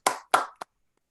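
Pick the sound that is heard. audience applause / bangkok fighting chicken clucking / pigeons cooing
audience applause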